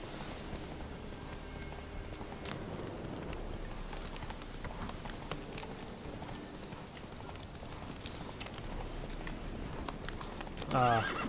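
Horse hooves clip-clop steadily while a horse neighs in The Witcher 3 video game, with a faint patter like rain running throughout and a short louder burst near the end.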